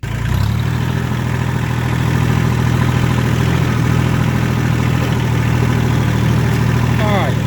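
A vehicle engine idles and runs steadily for a ride into the woods, a low continuous rumble that fills the whole stretch without talk.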